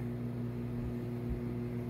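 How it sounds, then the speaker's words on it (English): Low, steady electric hum with a faint whir underneath, continuous and quiet, from a microwave oven running on high. "Microwave on high."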